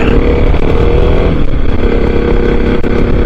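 A Kawasaki KLX 300 motorcycle is ridden on a chilly December road toward a golf course, its engine droning steadily up close with wind rushing throughout.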